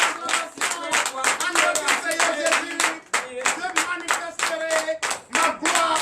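A church congregation at a Sunday worship service in Comè, Benin, claps in acclamation, a steady run of fast hand claps lasting throughout, with a sustained tone and some voices blending into the clapping.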